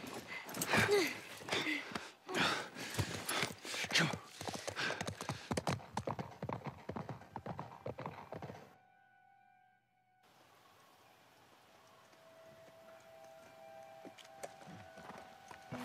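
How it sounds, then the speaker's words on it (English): Horse hooves clip-clop rapidly in The Last of Us Part I video game, a loud, quick galloping rhythm for several seconds before cutting off, followed by quiet ambient game sound. "Just get the horse."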